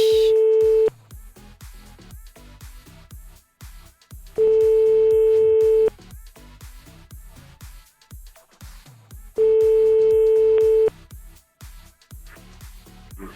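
A radio show placing a phone call: a steady busy-signal tone sounds three times in long bursts, with rhythmic clicking pulses running between them, loud and close.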